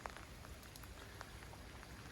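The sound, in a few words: light rain outside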